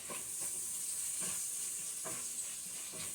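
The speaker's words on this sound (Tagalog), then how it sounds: "At yung sayuti, igisa na natin siya." Tomatoes and onions sautéing in a pan for pork mung bean soup, giving a steady close hiss and sizzle with a few soft stirring scrapes.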